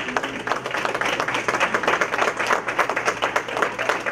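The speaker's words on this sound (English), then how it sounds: "Let's give them a round of applause." Applause from an audience at a Montgomery County Board of Education meeting, a steady patter of many hands clapping throughout, moderately loud and fairly even.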